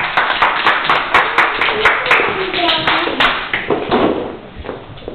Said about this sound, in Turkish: Evet, alkışlayalım beraber ya.